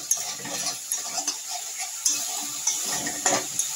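Chili and turmeric powder frying in a pan, a soft sizzle broken by light clinks and scrapes of a spoon against the metal. Nobody speaks.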